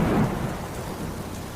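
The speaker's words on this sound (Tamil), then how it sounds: "டக்குன்னு இடி சத்தம்," A thunderclap rumbles over steady rain, starting loud and close then settling into a sustained downpour with no talk.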